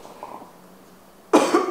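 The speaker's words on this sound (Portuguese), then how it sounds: "Mano, vou tossir de novo, velho." A quiet stretch of faint rustling, then one sudden, loud, harsh cough close by near the end, from a person after smoking hookah.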